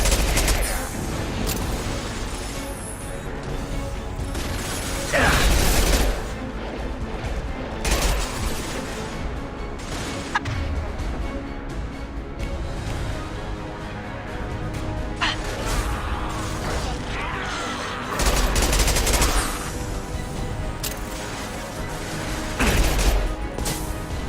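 Heavy gunfire in a combat setting, rapid machine-gun bursts and volleys of shots rattling on and off for a long stretch, with several loud blasts standing out and voices shouting between them.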